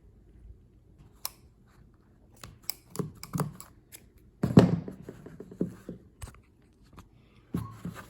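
Scissors snip a slit in fabric pressed over a mask form, with a scattering of short, quiet cuts and rustles spread irregularly across several seconds, close and alone with no talk.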